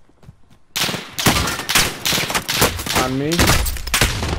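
Assault rifle gunfire rattles in rapid bursts during a Warzone match, loud and close, with players calling out over the shooting.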